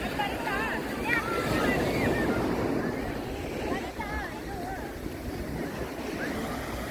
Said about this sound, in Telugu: మరి అట్లీస్ట్ చాలా ప్రశాంతమైన బీచ్ అండి ఇది.